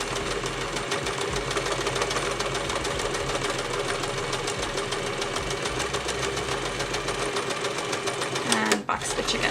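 A sewing machine runs steadily while stitching a straight pintuck in fabric, a fast continuous mechanical whir that stays close and loud nearly the whole time, then stops abruptly near the end.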